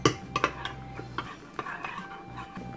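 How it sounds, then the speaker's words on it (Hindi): A utensil stirs and mixes nihari paste made with flour in a bowl, giving light clinks and scraping taps at an uneven rhythm, close by. "अब आपने इसको अच्छी तरह मिक्स करना।"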